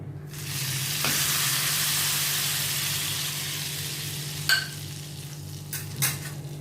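A steady hot sizzle of spiced tempering oil poured into dal palak fills the clip, with a couple of faint clinks of a utensil near the end.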